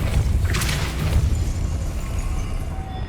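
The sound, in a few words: Depulso spell effect from Hogwarts Legacy video game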